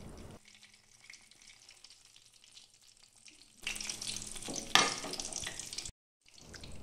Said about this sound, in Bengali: এভাবে উল্টে পাল্টে বেগুনটাকে ঠিক বেগুনি যেমন করে লালচে করে ভাজে ঠিক সেইভাবে ভেজে নিলাম।